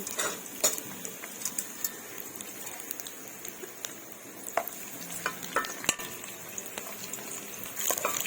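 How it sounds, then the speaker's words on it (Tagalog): Chopped onion sizzles in a hot pan as it sautés for a home-style chicken and liver dish with vegetables, with a steady frying hiss broken by sharp clinks and scrapes of a utensil stirring against the pan. "At ilalagay na natin ang ating sibuyas"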